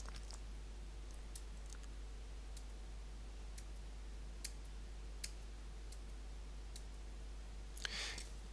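Sparse computer mouse clicks while starting a PowerPoint slideshow, sharp faint ticks spaced irregularly over a low steady hum, with a brief rustle near the end.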